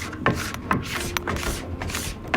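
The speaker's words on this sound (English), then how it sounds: "So now I'm just going to scrape this real fast." A scraper pulls warm wax off the bottom of a ski in a series of close, rasping strokes, each with a sharp scratch at its start, repeated steadily with no talking.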